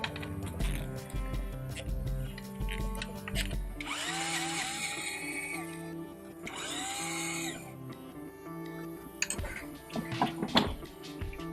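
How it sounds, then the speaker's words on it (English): A power tool spins out the 10mm transmission pan bolts on a Mini Cooper, giving two whirring rising bursts between clicks and mechanical rattles, with sounds of handling under and after them. "we're going to remove the 10mm bolts that hold the pan on"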